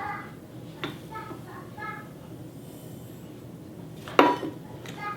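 Sugar body scrub stirred in a pitcher, heard as soft repeated scraping and light clinks from the utensil against the container, with one sharper knock near the end.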